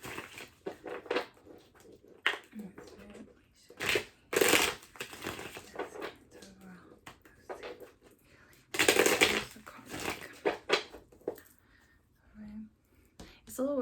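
Tarot cards are shuffled close by in short, crisp bursts of riffling and slapping, separated by quiet gaps, with faint soft murmuring underneath.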